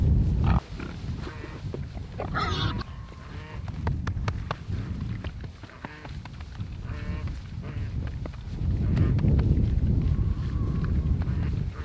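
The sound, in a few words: pigs on a homestead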